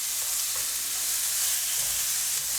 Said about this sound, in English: that's how we're going to fry these up